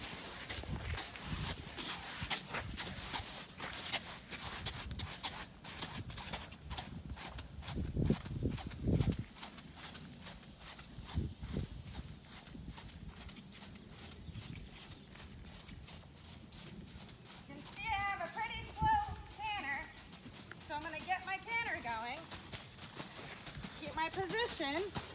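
A horse's hooves beat a rhythmic clip-clop across the ground while a person speaks throughout, with louder thuds partway through and the gait steady but not strongly defined.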